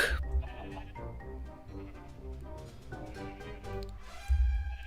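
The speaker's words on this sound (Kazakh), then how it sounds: "Айша ана жақта малдарды өлтіріп бастап жатыр уже" Sheep bleating and livestock cries from mobs being killed in a Minecraft game play in quick succession over steady game sounds, with a louder burst near the end.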